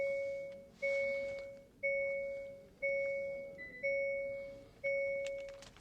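Dashboard chime of a 2025 Hyundai Exter Knight Edition SX AMT as the ignition is switched on: six evenly spaced two-tone electronic dings, about one per second, clear and close inside the cabin, with no voices.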